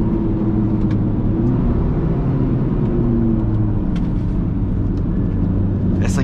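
A Ford Ranger pickup on 35-inch mud tires driving hard around a racetrack, its engine a loud, continuous close rumble with a broad, even roar that holds steady throughout.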